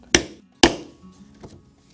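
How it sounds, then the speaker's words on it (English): A metal rivet is set into a leather dog collar with a rivet setter, giving two sharp, close hammer strikes and a fainter tap after them, with no talking. "with the rivet setter I will securely set this rivet"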